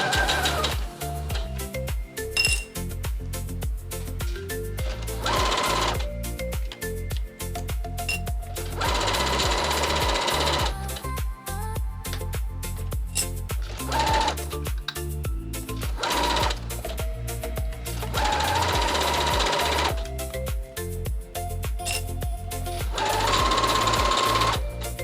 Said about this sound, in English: Sew the two pieces together and then the same for the other side.